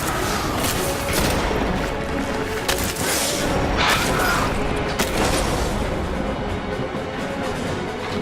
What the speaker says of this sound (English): they also apparently have guns on them that shoot purple balls of energy